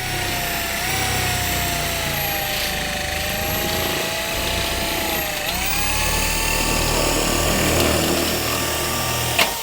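A power tool whines steadily and loudly while cutting a Metal Sales Image II metal panel, its high-pitched motor tone dipping slightly partway through, sustained for nearly ten seconds, close by, with no speech.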